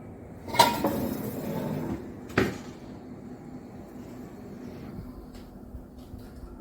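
Spoons and glasses in a small home kitchen give two quiet clinks a couple of seconds apart as they are moved about, followed by a near-silent stretch with faint rustling.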